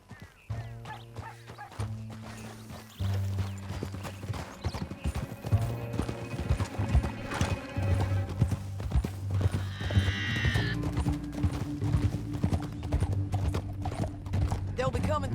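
Horse hooves clip-clop in a rapid galloping rhythm during a Red Dead Redemption 2 chase through a canyon, close and continuous, with a horse whinnying partway through under a musical score.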